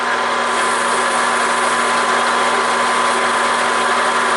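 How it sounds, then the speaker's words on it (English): A Scotch-Brite pad rubs the surface of an 8-inch handwheel spinning in a Grizzly G4003G lathe, making a loud, continuous, even hiss layered over the lathe's steady motor hum. "I'm just going to hit it with a little bit of Scotch-Brite"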